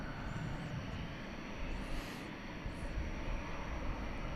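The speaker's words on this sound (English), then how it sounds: "And we should be seeing soon Fiji Flight 891 to Nadi." Fiji Airways jet airliner at DFW runway at night, a steady broad roar of jet engines heard from a distance, continuous and moderately loud with faint high whines passing over it.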